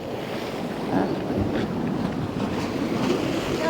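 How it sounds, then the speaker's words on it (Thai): Strong sea waves churn on Cha-am beach in Thailand, a continuous rushing surf with rumbling surges, buffeted by wind noise against the microphone. "คือคลื่นแบบแรง"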